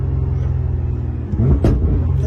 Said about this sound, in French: la voiture, elle monte tellement vite dans les tours